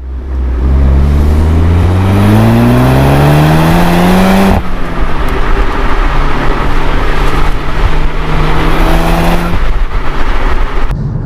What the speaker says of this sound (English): this car makes a lot more exhaust noise than the Cupra.